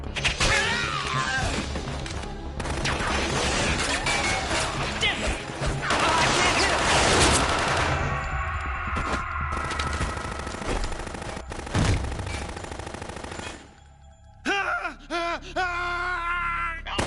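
Machine gun fire in Metal Gear Solid 2, long loud sustained bursts mixed with crashes and impacts, with game voices groaning and speaking amid the chaos before a brief lull.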